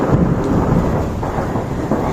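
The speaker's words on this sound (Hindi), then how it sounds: "कितने तेज से बादल गरजा।" A loud, low rumble of thunder rolls steadily over a village, with rain hissing underneath throughout.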